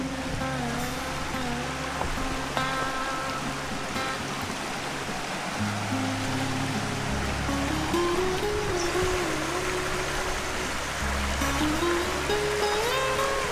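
Brown Creek runs near waterfalls with a broad continuous rush of water, steady and fairly loud throughout, with faint tonal sounds drifting over it.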